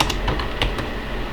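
Keys on a computer keyboard are struck in a quick burst of several close, crisp clicks over a faint background hum, as a command is entered on a Windows Server machine.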